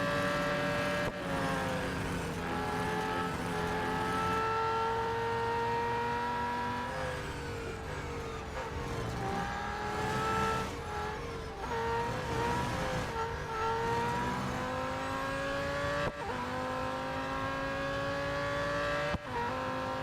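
A McLaren Solus GT racing car in Real Racing 3 revs its engine continuously, the pitch climbing and dropping through repeated gear changes, loud and close with no voices.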